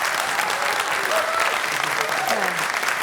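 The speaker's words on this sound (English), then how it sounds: "Let's give him a warm applause." A studio audience gives warm applause for jazz trumpeter Wynton Marsalis, a steady, full wash of clapping that holds at an even level throughout, with faint voices just under it.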